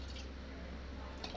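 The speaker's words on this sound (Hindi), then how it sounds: "हमने जैसे कि 7-8 आलू लिया था यहाँ पे, तो उस हिसाब से हम लगभग एक कटोरी के करीब अपने इमली का पानी लेंगे" Tamarind water for a potato samosa chutney is poured from a bowl, giving a faint, soft trickle with light drips that runs on quietly under low background noise.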